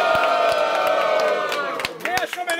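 Audience at a Brazilian rap battle, Batalha do Coliseu, cheering and shouting in a loud, dense crowd roar with whoops and a few claps, fading toward the end.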